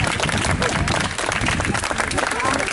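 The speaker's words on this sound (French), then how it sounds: "vous pouvez vous applaudir." Residents and children applauding at the inauguration of a community vegetable garden in Aulnay-sous-Bois, a dense outdoor clatter of clapping with voices and chatter mixed in.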